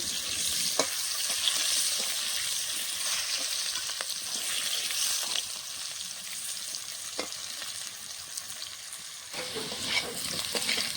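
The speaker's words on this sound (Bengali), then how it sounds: "আলুটা ভাজা হওয়ার মধ্যে আর কিছুক্ষণ ভেজে নেব।" Potato pieces seasoned with turmeric and salt fry in hot oil in a pan, a continuous close sizzle with occasional clicks and scrapes of stirring.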